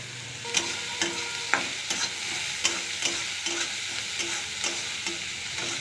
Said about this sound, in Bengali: শুধু একটু লবণ দিয়ে ভাজবো